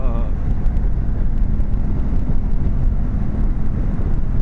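Ducati Multistrada 1200 motorcycle accelerating in touring mode, a loud low engine roar mixed with heavy wind buffeting, steady throughout while a rider speaks over it.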